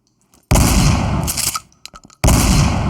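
Guns from a paid game asset pack fire in loud, sharp bursts, with a short rattling volley, a few scattered cracks and a final heavy burst.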